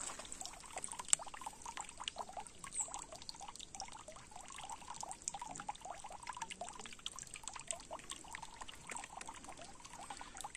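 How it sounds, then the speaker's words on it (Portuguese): Spring water trickles and dribbles out of the ground at a rural property with springs and ponds in Pinhalão, Paraná, a faint, continuous, close-up burble with small irregular splashes. "Aqui mina água de todo lado."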